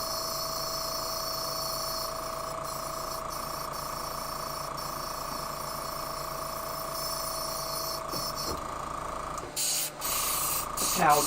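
Airbrush spraying water-based black acrylic paint onto a swim bait, a steady continuous hiss running throughout with a brief break near the end, while a person talks over it.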